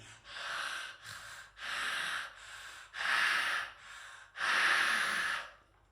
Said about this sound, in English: breathing through the mouth for 30 seconds to a minute